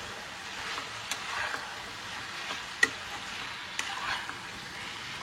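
Chicken pieces being sautéed and stirred in a pan with sugar added, a steady low sizzle with a few sharp utensil clicks against the pan, fairly quiet and with no talking.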